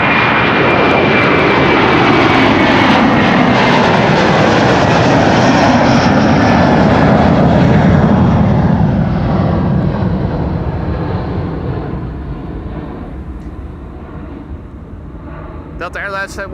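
Delta Airlines jet departing Amsterdam Schiphol, a loud sustained engine roar that builds steadily, then fades slowly as the aircraft pulls away into the distance.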